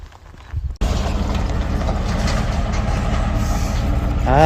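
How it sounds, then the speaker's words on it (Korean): A garbage truck on a mountain road near Aksai Canyon by Issyk-Kul Lake in Kyrgyzstan rumbles loud and close, its heavy diesel engine droning steadily after a brief quiet start and swelling toward the end. "저게 쓰레기차인지 저는 처음에 뭐 군인 차량인지 알았더니 그게 아니고"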